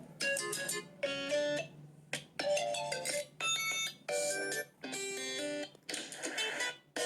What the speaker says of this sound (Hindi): इसके बाद आपको यहाँ पे फ़ोन रिंगटोन पे क्लिक करना है। मैं प्ले करके दिखा देती हूँ।